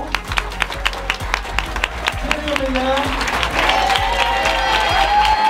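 An audience applauds PSG handball players at a corporate meet-and-greet, scattered claps building into fuller applause as an announcer speaks over a sound system.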